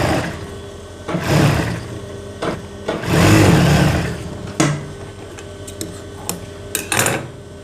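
A sewing machine stitching the folded neckline of a kameez, running in short mechanical bursts with a longer steady run in the middle, close by, with scattered clicks and handling noises between runs.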